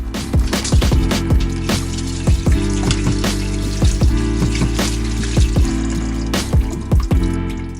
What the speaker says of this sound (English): Remove the radiator cap to help drain the coolant.